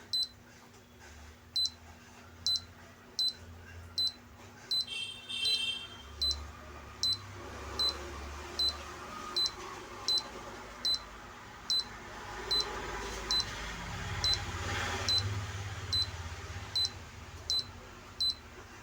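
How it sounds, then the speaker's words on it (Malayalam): Appliance control board emitting error-code beeps, associated with a fan motor fault: short sharp electronic beeps repeating at a steady rhythm about every second, close and clear over a low background hum, with no talking. "മറ്റെല്ലാം സിംഗിൾ ഒരു ബീപ്പാണ് കേൾക്കുന്നത്."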